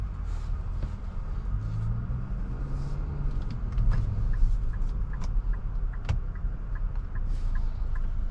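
A 2025 Infiniti QX60 Pure rolls along a road, heard from inside the cabin as a steady low rumble of engine and tire noise with faint scattered ticks and clicks.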